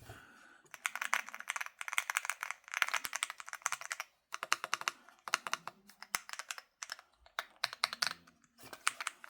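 A MelGeek MADE68 Pro gaming keyboard is typed on up close, rapid bursts of crisp clacking keystrokes in uneven clusters with brief pauses between them.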